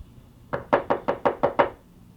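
Six evenly spaced knocks on a door in quick succession, close and clear with no voices over them, in a Cinderella story scene.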